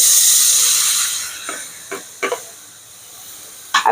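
Tomatoes hitting hot pork in a pan without oil give a steady hiss that fades over the first seconds, followed by a few short sizzling bursts near the end.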